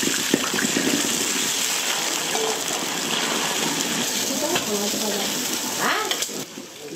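Fish head frying in hot oil in a wok for a Sichuan dish, a steady, close, loud sizzle that crackles throughout with a brief scrape near the end.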